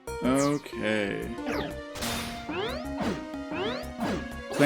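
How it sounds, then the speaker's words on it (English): Clamperl's smashing attacks in Pokemon Mystery Dungeon: Rescue Team DX land as a string of sharp game hits and crashes, mixed with rising synthesized effect tones and background music. "Clamperl, stop smashing."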